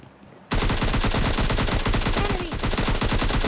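Rapid automatic gunfire in PUBG Mobile Lite breaks out after a short quiet lead-in, and the loud fast bursts continue steadily to the end.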